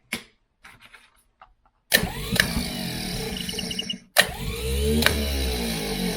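A 1965 Ford 3000 tractor starter motor on a bench test, spun in two short bursts with a loud whirring electric whine and clatter, each starting abruptly and then cutting off, after a few quiet handling clicks.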